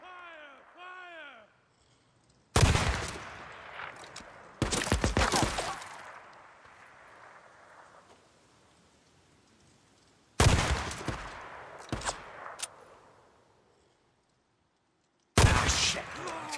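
Gunfire in the video game Days Gone on PS4, loud bursts of rapid shots in several separate volleys with ringing decay and quiet gaps between, plus brief speech near the start.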